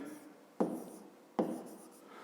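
Two quick pen strokes on paper, each a sharp scratch that fades, spaced under a second apart during a Ukrainian fifth-grade maths lesson, with a quiet room behind.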